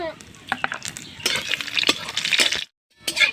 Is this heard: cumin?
yes